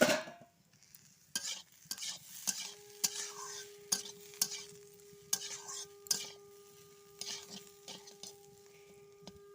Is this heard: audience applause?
no